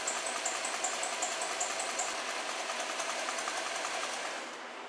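A Porsche Cayenne 4.8 V8 idling roughly with a misfire, close and steady with a rhythmic ticking stumble and uneven pulsing, fading slightly toward the end with no one talking.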